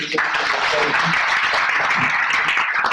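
An audience at a formal gathering claps steadily for the full stretch, a dense, fairly loud wash of applause with voices mixed in.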